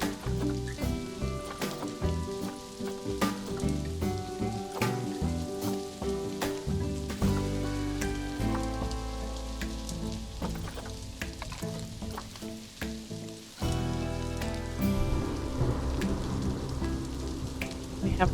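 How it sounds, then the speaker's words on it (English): Thunderstorm rain in the zoo-building game Planet Zoo, falling on a wooden roof as a dense, continuous crackling patter with low rumbles underneath, steady and loud throughout. "Have a thunderstorm."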